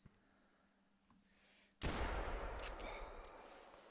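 A single loud rifle shot from a .405 in theHunter Classic cracks out sharply, followed by a long rolling echo that slowly fades across an outdoor range.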